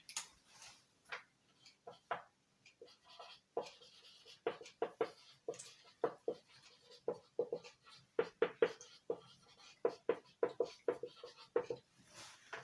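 Pen or marker scratching out notes on a board or paper during an algebra lesson, a rapid run of short taps and strokes, close and fairly loud, with brief bits of the teacher's voice in between.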